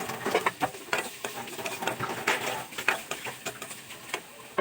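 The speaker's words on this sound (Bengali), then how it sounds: "যে পেঁয়াজটা হয়ে গেছে এরকম এরকম করে ভেজে নেবেন," Onion and a chili paste frying together in oil, heard as a busy mix of light sizzling and irregular clatters and scrapes from stirring, fairly quiet with no speech.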